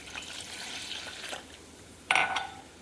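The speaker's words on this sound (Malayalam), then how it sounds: "ഇനി നമുക്ക് കുറച്ച് വെള്ളം ഇതിനകത്തോട്ട് ഒഴിച്ചു കൊടുക്കാം." Water is poured into a pot of tamarind curry: a short, splashy pour bursts in near the end after a quiet stretch of faint kitchen noise.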